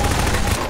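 Rapid gunfire in the video game Garry's Mod during a Prop Hunt match: a dense, loud burst of overlapping shots filling the whole brief moment, with no pauses between them.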